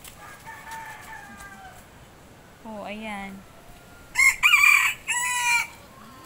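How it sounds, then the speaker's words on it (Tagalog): A rooster crows twice near the end, loud and close, after a short distorted call and under a person speaking casually at home during a rainy typhoon spell with lots of water around. "Oh, yung manok."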